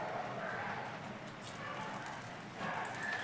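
Egg batter trickled by hand into hot oil over a low gas flame for egg kabiraji, giving a steady, dense sizzling crackle that swells slightly toward the end, close and continuous.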